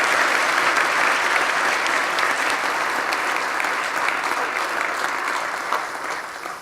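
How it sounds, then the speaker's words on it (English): Steady, full applause from an audience at a community event in Sioux City, sustained throughout and easing slightly near the end, with no talk over it. "Let's give these guys a round of applause."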